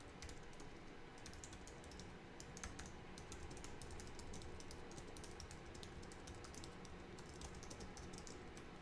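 Rapid typing on a computer keyboard while setting up an ads campaign, a dense patter of light key clicks running continuously under a constant hiss of background noise, with no talking.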